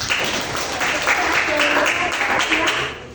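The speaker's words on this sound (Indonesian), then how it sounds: "tepuk tangan buat kalian" A classroom of students applauds for their teacher's praise, a dense, steady clapping that fills the whole few seconds at even loudness with no talk over it.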